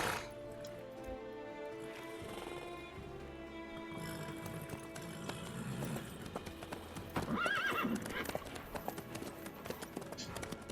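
Horse hooves clip-clop steadily in the Witcher 3 video game, a rhythmic trotting under a music bed, with a horse neighing briefly near the middle.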